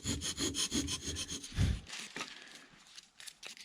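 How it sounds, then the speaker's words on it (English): A hand file rasps rhythmically across wood, cutting a notch for control line model airplane ribs, in quick close strokes that grow more irregular and fainter toward the end. "we're going to cut these ribs to fit in the notches that we just filed"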